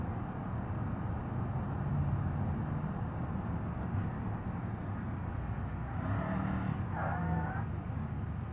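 Car engine revs high and steady in the BeamNG driving game, a continuous droning whine holding near full volume, with brief tonal rises and shifts toward the end.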